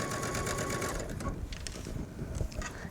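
A sewing machine stitches twill tape along a V-neck facing, running with a close, steady mechanical whir and rapid needle thumps. It slows into lighter, intermittent clicks and taps as the fabric is handled.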